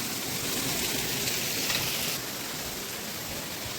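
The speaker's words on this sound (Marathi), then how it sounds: "बघा पाऊस बघा कसला पडतोय तो जोरदार पाऊस पडतोय" Heavy rain pours down in a steady, dense hiss with no voices, the broadband wash holding constant and easing slightly partway through.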